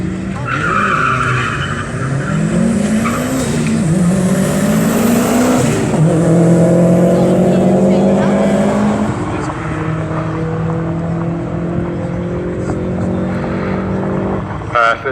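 Drag racing cars at Elvington Airfield, including a turbocharged Skoda Octavia in the right lane, roar loudly as engines rise through gear changes and tyres screech, with a commentator talking over the noise throughout.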